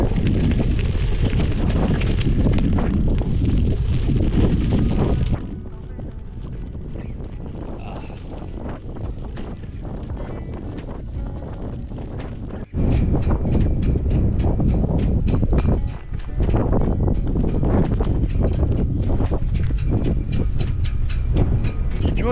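Strong wind on top of Salisbury Plain buffets the microphone in a loud continuous roar, briefly easing midway before surging back, with no voices.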